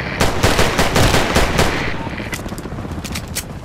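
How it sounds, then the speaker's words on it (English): Rapid gunfire from an L96A1 sniper rifle in the Battlefield Play4Free video game, a loud, close burst of sharp repeated cracks that thins into scattered distant shots. "Just a quick double shot."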